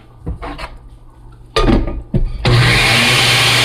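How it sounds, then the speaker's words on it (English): A few knocks and clatters, then a blender pureeing ginger whirs up in short bursts before settling into a loud, steady grinding roar. "So I'm just gonna puree this in my blender"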